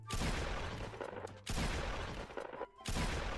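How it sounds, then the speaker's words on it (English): Loud shotgun blasts in the Roblox game Da Hood boom in quick succession, three heavy bursts, each trailing into a roaring decay, close and dominating the mix. "the shotgun sounds too loud"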